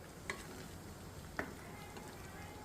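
Paneer cubes being gently stirred into a cashew tomato curry, giving a soft continuous sizzle with two brief spoon scrapes against the pan.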